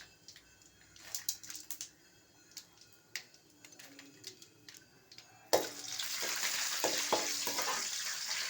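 Potatoes, peas and curry leaves fry in a pan, with scattered soft crackles and stirring clatter that jump into a loud, steady sizzle as more goes into the hot oil.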